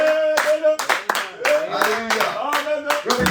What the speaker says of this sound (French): Est-ce qu'on peut l'applaudir, lui, le Seigneur?